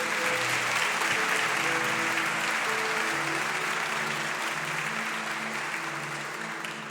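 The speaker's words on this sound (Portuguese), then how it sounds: "aplauda bem forte ao Senhor" Church congregation applauding loudly and continuously for several seconds during a service, a thick wash of clapping with a sustained organ or keyboard chord underneath that slowly fades.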